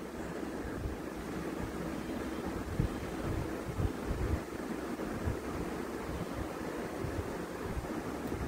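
Breaded potato lollipops fry in hot oil with a steady, dense sizzle and crackle that holds at an even level throughout, with no talking.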